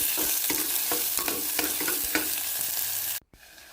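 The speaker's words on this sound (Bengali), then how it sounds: "এর মধ্যে দিয়ে দেব পেঁয়াজ কুচি আর আদা রসুন বাটা। ভালো করে নাড়িয়ে নেব এগুলোকে।" Chopped onion and ginger-garlic paste sizzle and fry in a pan while being stirred, with steady frying hiss and periodic scraping strokes, then an abrupt cutoff near the end.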